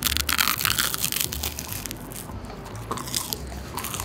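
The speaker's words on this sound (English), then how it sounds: "Listen to the crunch." Crispy pizza slice being bitten and chewed up close, loud dense crunches repeating in quick succession, crackling bursts that keep going while chewing continues.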